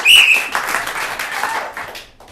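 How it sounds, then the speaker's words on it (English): A short burst of audience clapping at a high school event, loud at first, then thinning out and fading within a couple of seconds. "one final time, audience clap"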